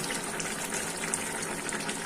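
Milk poured into a pot of shukto, a steady close liquid gush filling the pot without pause.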